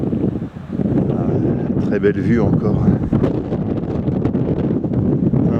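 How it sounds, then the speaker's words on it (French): Strong wind buffets the microphone on a mountain pass during a hike in the Hérault, a continuous loud roar and rumble while someone talks over it. "Un vent à décorner les cocus comme d'habitude."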